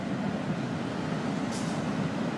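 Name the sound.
Florida East Coast freight train passing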